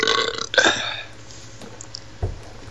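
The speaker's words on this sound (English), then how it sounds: "You're burping, you're munching, you're drinking, you're slurping." A loud, drawn-out burp bursts out near the microphone during an online Halo Wars gaming session, followed by quieter throat noises and a short low grunt.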